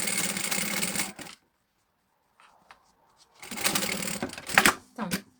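A domestic sewing machine stitches in two short bursts with a silent gap between them, and a few clicks and handling noises follow.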